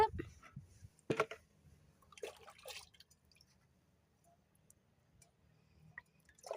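Water drips and trickles from dried cow dung being strained, in a few scattered bursts of splashing against a quiet background, fairly close and brief.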